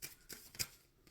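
Quiet riffling and soft slaps of tarot cards being shuffled, a few brief bursts close by with no voices.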